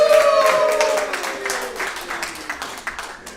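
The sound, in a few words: studio audience applause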